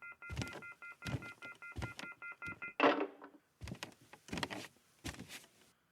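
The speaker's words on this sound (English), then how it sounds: "Our phone here at Nobody Listens to Paula Poundstone apparently has been off the hook for a long time." A landline phone left off the hook beeps in a repeating pattern, with regular electronic tone bursts and clicks about every half second, loud and up close with no talk over it.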